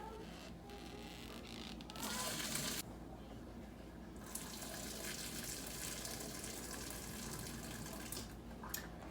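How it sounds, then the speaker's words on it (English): Hot water drains out of a sink holding blanched green beans as the basin is tipped, a steady rushing, gurgling flow close by that swells briefly before settling into a constant wash of water. "I'm going to try to tip this over and let out hot water, but not hot beans."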